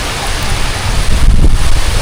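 Steady rain pours down outdoors on a mountainside, a dense continuous hiss that swells slightly louder partway through, with no voices.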